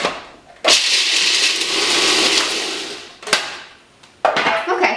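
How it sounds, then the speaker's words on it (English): A food processor chops pistachio pesto ingredients in a loud, continuous whirring burst of a few seconds. Sharp clunks break it up, then it runs again briefly, with no voices. "So now we're just going to process this until our pieces are small, about 20-25 seconds."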